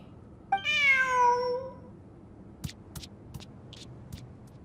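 A cat in a video game event quest gives one clear, drawn-out meow lasting over a second, followed by a few faint, scattered clicks against quiet background ambience.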